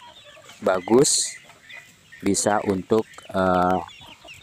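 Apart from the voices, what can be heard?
free-range village chickens clucking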